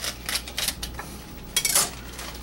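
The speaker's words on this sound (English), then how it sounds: "I'm going to cut this end off." A knife cutting the end off a baby Napa cabbage, heard as a few crisp crunching chops against a board, close and fairly loud with no talking.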